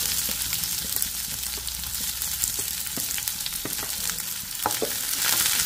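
Ginger, garlic and onion fry in a pan with a steady, close crackling sizzle and scattered sharp pops, with no voices over it.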